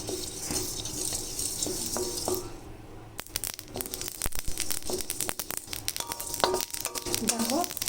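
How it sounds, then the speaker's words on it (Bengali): Whole cumin and coriander seeds dry-roasting in a pan for a chhola dal spice mix give a faint crackling sizzle, then brisk scraping and rattling stir strokes that grow busier and closer after a quiet start. "প্রথমে গোটা জিরে গোটা ধনিয়াটাকে ভেজে নেব এটা হচ্ছে ভাজা মশলা"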